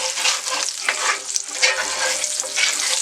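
Vegetable oil sizzles and crackles loudly in a skillet with onions as it is stirred around, a dense continuous frying hiss close up with no talking.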